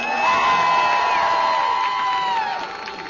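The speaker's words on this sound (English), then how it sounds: "If you want Solo Mid to take this one over at home, online, wherever you are here, let me hear you cheer." An arena crowd at a League of Legends final between EPIK and TSM cheers loudly, a sustained roar with shrill whoops and shouts that holds strong and then begins to fade.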